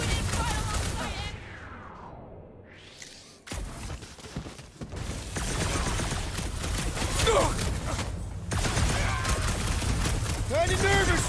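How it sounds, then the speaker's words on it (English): Gunfire and bursts of combat noise from the video game Marvel's Guardians of the Galaxy, set around a ship reactor, roaring loudly and continuously under a dense mix of game effects and talk. "Kind of nervous shooting around a ship reactor!"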